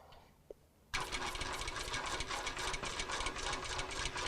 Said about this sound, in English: Now I'm using an industrial machine that has an automatic cutter